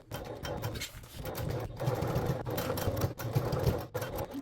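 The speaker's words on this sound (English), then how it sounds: "we are going to top stitch along the top edge or bottom edge of the upper back panel" A sewing machine top-stitches through the exterior fabric along the edge of a crossbody bag's upper back panel, running in a continuous close whirring hum with brief pauses and restarts.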